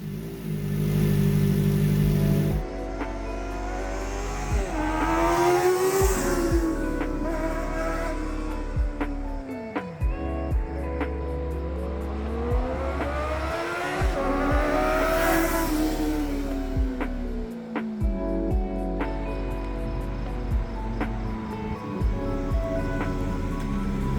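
A Kawasaki Ninja ZX4R motorcycle with an aftermarket exhaust revs repeatedly, its loud engine note climbing and falling through several sweeping rev cycles over a steady idle, heard nearby outdoors.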